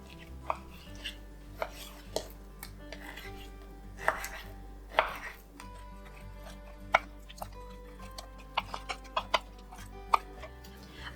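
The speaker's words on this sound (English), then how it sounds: "I'm going to use 1 pound of fresh pork. It's a pork shoulder. Let me cut the meat first." A knife cutting fresh pork shoulder on a board gives sharp, irregular taps and thuds, some isolated and some in quick clusters, close by over a quiet kitchen hum.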